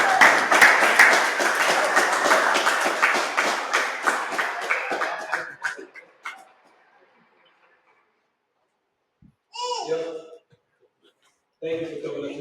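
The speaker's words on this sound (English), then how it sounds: "Can we clap it up for" An audience claps and cheers loudly for about five seconds, then the applause fades out; brief bursts of talk follow after a pause.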